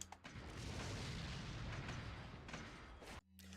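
Incendiary grenades exploding in a Resident Evil video game: a dense, loud, roaring burst of booming fire that sustains for about three seconds, then cuts off abruptly.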